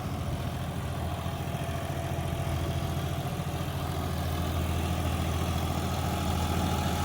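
A John Deere 5210 tractor engine runs steadily under load while pulling an 8-foot rotavator, a continuous deep diesel rumble with a constant low throb, loud and close throughout with no voices.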